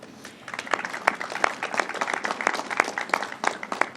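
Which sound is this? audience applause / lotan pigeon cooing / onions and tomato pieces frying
audience applause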